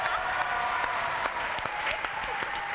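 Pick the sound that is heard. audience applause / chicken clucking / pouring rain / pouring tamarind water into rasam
audience applause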